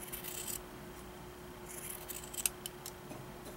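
A few short, crisp snips and rasps of scissors trimming sewn fabric for a banana-shaped doll, close and fairly quiet, over a faint steady hum with no talking.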